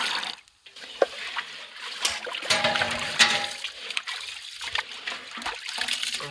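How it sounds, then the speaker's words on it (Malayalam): Soaked rice for a Thalassery-style beef dum biryani being rinsed with water, close splashing and trickling with sloshing surges, irregular and continuous, with no talk. "നല്ലപോലെ ഒന്ന് വെള്ളം ഒഴിച്ചൊന്ന് കഴുകിയെടുക്കാം."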